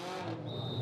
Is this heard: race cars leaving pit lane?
yes